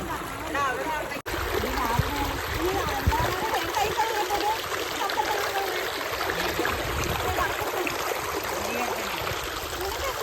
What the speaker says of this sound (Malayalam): എനിക്ക് വെള്ളത്തിന്റെ സൗണ്ട് ഭയങ്കര ഇഷ്ടമാണ്